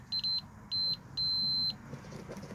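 Multimeter continuity tester beeping while probing a gold or pyrite sample, three steady tones of rising length, the last held about half a second, over faint background hum.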